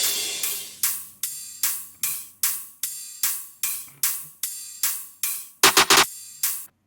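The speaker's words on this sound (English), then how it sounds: "you're going to have your rides and hats" Dubstep ride cymbal and hi-hat samples play alone as a steady run of about a dozen bright, crisp metallic hits with ringing decay, ending in a quick cluster of rapid hat strikes.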